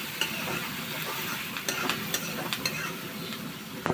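Meat for a korma with spices sizzles steadily in a hot pan while a utensil scrapes and stirs it, with occasional sharp clinks of metal against the pan.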